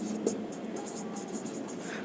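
Pen or marker writing a differentiation formula on a board or page, a steady scratchy stroke sound running throughout at close range with no talk.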